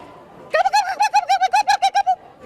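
A person's voice imitates a turkey gobbling: a loud burst of rapid, evenly pulsed warbling notes, about a dozen in quick succession, heard alone for roughly a second and a half.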